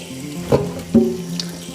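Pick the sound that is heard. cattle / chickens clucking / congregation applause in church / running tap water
running tap water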